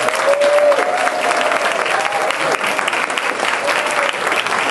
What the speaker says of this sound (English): I really want to give him a round of applause for all that he's done.